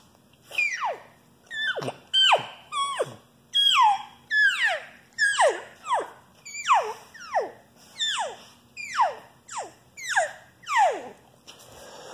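Rapid overlapping squealing mews imitating a gathering elk herd, about a dozen descending calls varying slightly in pitch and strength, close and steady throughout.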